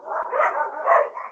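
Dogs bark in two quick, muffled bursts, sounding compressed, as if picked up through a live online call.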